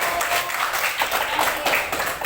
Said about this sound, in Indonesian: Tepuk tangan untuk kelas 5 dulu.